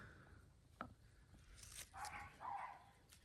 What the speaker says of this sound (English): Y'all hear Bodie barking